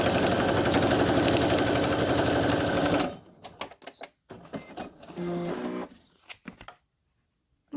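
A sewing machine stitching journal tags runs at a fast, steady rattle for about three seconds, close and loud. Short stop-start bursts of stitching and mechanical clicks follow, then silence.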